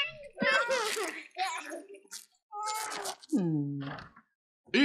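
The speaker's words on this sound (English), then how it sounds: "stop tormenting that poor little kitty" A cat gives several short meows, with a long drawn-out one near the end, mixed with children's voices close by.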